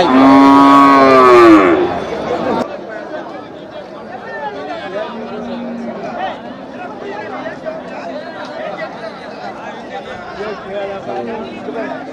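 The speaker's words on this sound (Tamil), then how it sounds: "இது என்ன மாடு இது நாட்டு காளை நாட்டு காளை" A native bull lows loudly and close at a busy cattle market in Karimangalam, a long drawn-out moo, then the crowd's chatter and voices carry on in the background.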